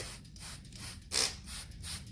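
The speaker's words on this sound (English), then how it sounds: "So let's spray this down fairly well." Soft hissing bursts of a spray bottle misting a coconut coir worm bin, several quick sprays in a loose rhythm, close and fairly quiet against a rustling background.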